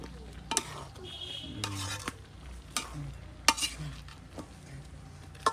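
Radish curry with spices cooking in a pan, a low continuous sizzle broken by a few sharp spoon scrapes and clinks against the pan.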